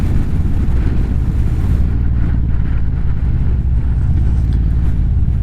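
Strong wind buffets the microphone during a motorcycle ride, a loud, continuous low roar and rumble that stays steady throughout, with no speech.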